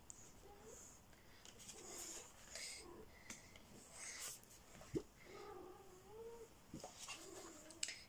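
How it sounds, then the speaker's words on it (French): A female house cat in heat yowls and meows indoors, a few drawn-out cries rising and falling at moderate distance among faint rustling room noise. "Si vous entendez mon chat, c'est normal."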